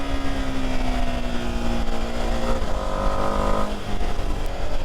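A 2025 Ducati Panigale V2S motorcycle engine drones loudly while riding, its pitch climbing through the revs, with a gear change midway, steady and close with wind noise underneath.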